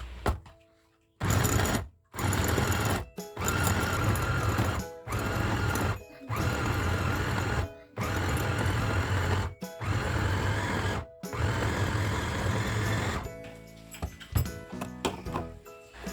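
An Idealife 216J electric food chopper runs in repeated loud bursts of about a second each, separated by short silent gaps as the button is pulsed, then stops and leaves faint rattling.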